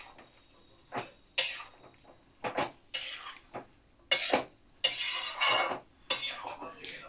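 Bottle gourd curry with prawns stirred in a pot after water is added, then covered: a run of separate scraping and clinking bursts of spoon against metal, close by, with short pauses between them and no talk.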